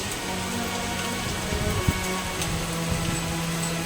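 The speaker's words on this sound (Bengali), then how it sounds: "তুই বৃষ্টিতে ভিজছিস?" Rain falls on an outdoor spot in India where a German Shepherd dog sits getting wet, a steady close hiss of drops with a few louder taps and splashes, no voices.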